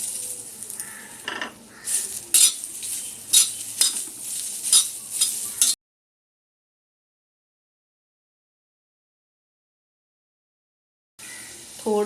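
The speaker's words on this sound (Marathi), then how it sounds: "कांदा भाजते वेळी तेल टाकल्यानंतर कांदा पटकन भाजतो." Onion frying in oil for a tempering in a Konkani cashew curry, with crackling sizzle and clinks of a spoon against the pan in uneven bursts, then a long silence before the sizzle briefly returns.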